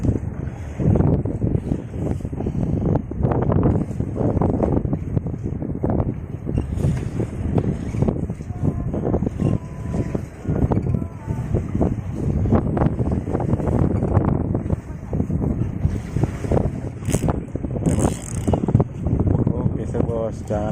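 Strong wind buffets the microphone aboard a small fishing boat at sea with high waves, a loud, constant rumbling roar under rough splashing and motion, with people talking throughout.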